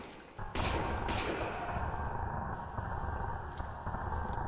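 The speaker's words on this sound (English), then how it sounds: "I'm gonna shoot you." Gunfire from the video game Lost in Vivo: a loud, dense burst of shots that starts suddenly and keeps up a continuous rattling barrage, with a few sharper reports standing out along the way.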